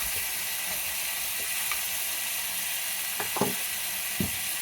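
Chicken pieces, weighted down over sausage, sizzle steadily in a hot pan with a constant hiss, broken by a few faint pops and clinks.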